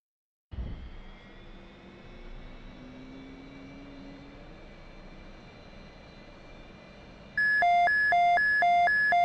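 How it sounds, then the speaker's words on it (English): A video game jet aircraft roars at full throttle with afterburner as a steady, wide engine rumble that starts abruptly, then a loud repeating electronic warning beep pattern takes over for the last two seconds. "Throttle's all the way up in the afterburner, hopefully."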